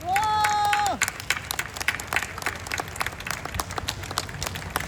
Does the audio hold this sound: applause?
yes